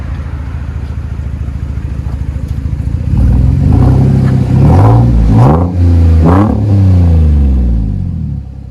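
Chevy Silverado with a 4.3L V6 and a KOOKS straight-through exhaust idling with a deep burble, then revved hard three times in quick succession, loud and close with a raspy, crackling drop after each rev.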